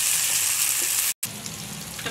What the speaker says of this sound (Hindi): टमाटर और हरी मिर्चें भी 2 मिनट के लिए इस तरह फ्राई कर ली हैं।